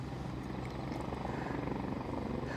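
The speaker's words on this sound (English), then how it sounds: "I think there's another helicopter coming out from some nook or cranny." A helicopter flies near Aberdeen airport, its rotor producing a steady, rapid thudding chop with a continuous engine drone, heard at moderate distance and fairly loud throughout.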